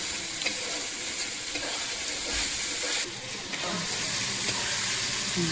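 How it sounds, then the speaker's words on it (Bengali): Spice paste for a village-style desi chicken curry fries steadily in a pan, a continuous close sizzle with stirring scrapes and a brief louder burst midway; no one talks. "ভালো করে মশলাটা লাল লাল করে একটু ভেজে উঠাবো"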